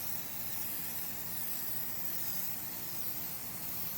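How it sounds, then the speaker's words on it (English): Aerosol can spraying a sixth coat of Plasti Dip onto a Nissan grill outdoors, a continuous, even hiss held close throughout without a break. "6th coat right here on the grill."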